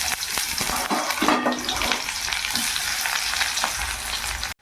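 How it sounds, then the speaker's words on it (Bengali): Onions frying in hot oil with garlic and two chillies give a loud, steady sizzle close up, with brief scraping stirs, no voices, then cutting off abruptly at the end. "এই যে বন্ধুরা, পেঁয়াজটা ভেজে নিয়েছি"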